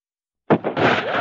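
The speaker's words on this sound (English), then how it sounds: "as gunshots echo across the windswept, snow-covered reaches of the wild Northwest" A sharp burst followed by a sustained, noisy roar that holds loud to the end, like a gunshot with a rumbling echo, a radio drama sound effect, alone with no talk.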